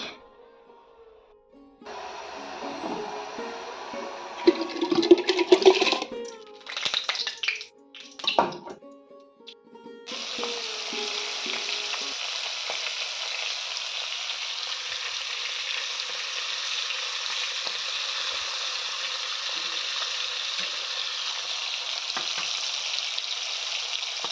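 Clattering and scraping of a pan and utensils, then a steady, loud sizzle of fish frying that continues unbroken for the rest of the clip.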